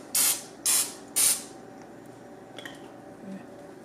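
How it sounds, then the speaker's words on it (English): Cooking spray hisses into muffin tin cups in three short, even bursts close to the mic, followed by faint handling clicks in a quiet kitchen. "So you're just going to give one quick spray"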